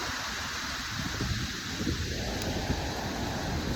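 Ocean waves washing in a broad continuous roar, mixed with wind buffeting the microphone, with a gentle surge building midway and no voices present.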